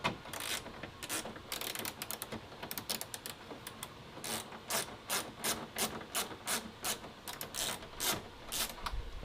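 A ratchet with a 10mm socket working bolts on a 2016-2021 Camaro decklid, a rapid series of quiet clicking pawl strokes in short rhythmic bursts, close and faint, without talk.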